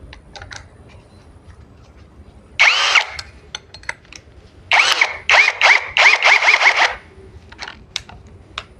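Corded power drill boring with a Unicorn 10 mm bit at speed 2, a brief whine then a longer run of several short pulsing bursts, close and loud, with clicks and handling noise between.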